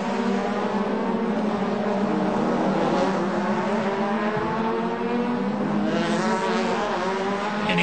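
Star Mazda race cars scream past on a road course during a race, high-revving engines rising and fading as they pass close by, with a continuous loud roar and no talk.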